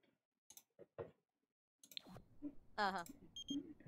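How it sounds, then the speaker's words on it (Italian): A phone call rings in The Sims 4 with a bright electronic chiming tone that rises and falls, heard after some scattered clicks and short voice snippets, with game sounds mixed in. "È telefonata da Scott"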